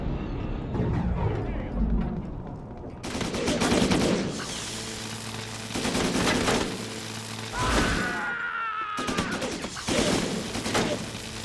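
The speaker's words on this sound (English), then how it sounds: "Stop shooting me." Repeated bursts of gunfire from the video game Syphon Filter: Omega Strain, loud and dense, coming in rapid volleys with brief pauses between them, mixed with booming impacts and a faint rising whine, over a low game soundtrack.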